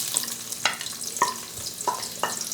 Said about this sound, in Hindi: ऑयल अच्छे से गर्म हो जाने के बाद हम इसमें शामिल करेंगे जी प्याज बारीक कटी हुई